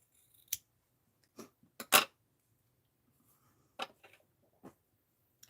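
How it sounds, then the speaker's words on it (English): Scissors snip through a piece of fabric for a quilt square in a quiet room, with several short, crisp cuts spaced irregularly and faint against near silence. "So I'm going to snip this off here."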